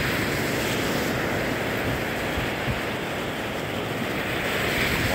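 Waves rolling in on a Lake Michigan beach at Grand Park Beach, a steady wash of surf with some wind, continuous and fairly loud with no one speaking.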